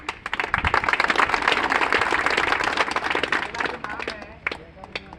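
Loud audience applause at a motivational program award ceremony, dense clapping swelling then thinning toward the end, with a few scattered claps trailing off.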